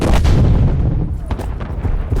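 Artillery fire in Call of Duty Cold War, a military shooter video game: one heavy, close blast that rumbles and slowly fades, followed by fainter crackling impacts.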